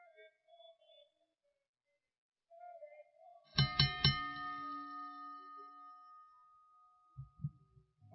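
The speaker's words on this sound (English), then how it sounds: "Ref calls for the bell" A wrestling ring bell clangs three times in quick succession, bright and metallic with a long ringing decay, after a quiet stretch with faint sounds and before a few low knocks.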